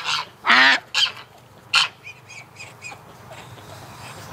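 Agitated Muscovy ducks and geese on a hatching farm letting out several loud, harsh honks close by, followed by quieter, scattered honks and calls.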